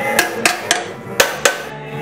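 A hammer driving a nail into wood: five sharp, close, separate blows spaced irregularly over about two seconds, with quiet gaps between strikes and no talk.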